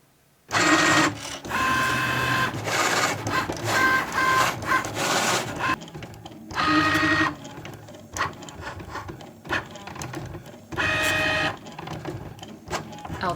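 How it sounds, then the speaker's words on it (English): A Cricut cutting machine cuts a fabric neckline stencil for custom t-shirts, giving bursts of mechanical whirring and ratcheting, heard fairly close and loud, pausing between passes and starting up again, with no talk over it. "That noise in the background is my Cricut."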